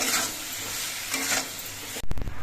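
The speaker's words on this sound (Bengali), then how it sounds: "নুন হলুদ দিয়ে টমেটোটা নেড়ে চেড়ে মিশিয়ে দিয়েছি" Tomatoes with salt and turmeric stirred in hot oil for tomato chutney, giving a steady close sizzle and hiss that ends with a few sharp utensil knocks against the pan.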